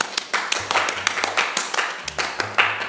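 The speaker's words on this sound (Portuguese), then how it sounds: "Uma salva de palmas pra minha adorável assistente." Audience applause for a magician's assistant at a magic show, a burst of steady hand clapping lasting a few seconds with a faint voice beneath.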